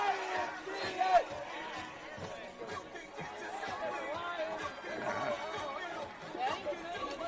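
Crowd at a high school baseball game on a night at the ball field: a faint, distant murmur of chatter with scattered shouts and cheers.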